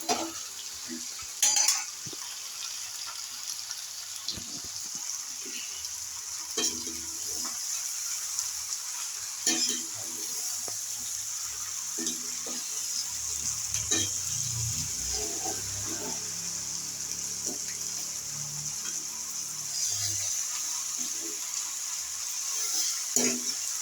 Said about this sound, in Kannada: ಚೆನ್ನಾಗಿ ಮಿಕ್ಸ್ ಮಾಡಬೇಕು ಇದನ್ನು, ಇಲ್ಲಾಂದರೆ ಶುಂಠಿ ಬೆಳ್ಳುಳ್ಳಿ ಪೇಸ್ಟ್ ತಳ ಹಾಕ್ಬಿಡುತ್ತೆ